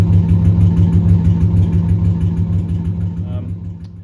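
Car engine fitted with a big cam and ported heads, idling with a lumpy, loping rhythm of regular pulses, close and steady, easing slightly quieter toward the end.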